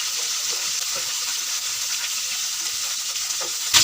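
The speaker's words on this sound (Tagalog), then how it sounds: "Iprito muna natin siya." Food partially frying in a pan gives a steady, close sizzle that holds evenly throughout, ending in a brief louder burst, with no talking.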